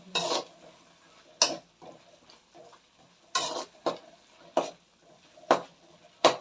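Tempering sizzling in oil in a pan, stirred with a utensil: sharp scraping clanks recur every second or so over a faint low sizzle, close and fairly quiet, with no talking.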